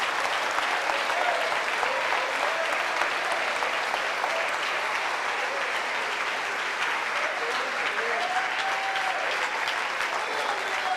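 A church congregation applauds continuously for a long stretch, a thick, even wash of clapping with faint voices and cries rising beneath it.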